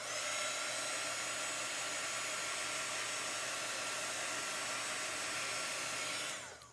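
A hair dryer blows steadily to dry chalk paste on a craft project, a loud continuous close whir that holds unbroken for several seconds, then cuts off at the end.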